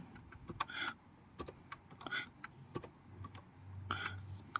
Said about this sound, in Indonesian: kita ketik di sini add, kita ketik 2